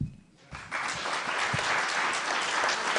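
An audience at a county commission candidate forum breaks into clapping after a brief quiet moment, swelling into sustained, dense applause from many hands in a room.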